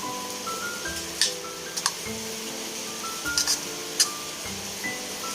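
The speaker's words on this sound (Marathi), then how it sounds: "थोडीशी अद्रक लसूण पेस्ट, कोथिंबीर एका चमच्याने व्यवस्थित मिक्स करून घेऊया" A metal spoon clinks against a bowl several times at irregular moments while corn pakoda batter of corn, red chilli powder, ginger-garlic paste and coriander is stirred, over a steady background of soft music.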